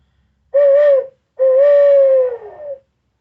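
Two drawn-out owl hoots from a turkey hunter's locator call, a short hoot followed by a longer one that trails off downward. Both are loud and close, with silence around them and no talking.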